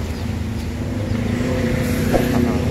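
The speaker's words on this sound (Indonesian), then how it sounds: "telah tiba ya, bus Rosalia Indah." A large Rosalia Indah bus engine rumbles steadily nearby as the bus pulls in, low droning motor sound with slight revving, no speech.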